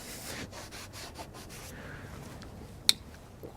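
A car body surface is rubbed clean before rear molded splash mud guards go on a GM vehicle, producing a run of close, soft scrubbing strokes followed by a quieter stretch and one sharp tap near the end.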